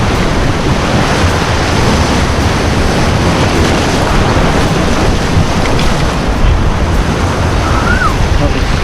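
Loud, constant roar of ocean waves and swell beside a boat off a wild Central American shore, with heavy wind buffeting the microphone.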